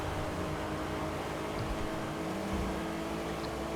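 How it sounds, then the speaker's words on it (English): Steady, low engine hum of a Chavos V6 (Honda Accord) in a video game drones continuously with a constant rumble, fairly quiet and unchanging throughout, with no voices. "the sound of the engine is not very aggressive"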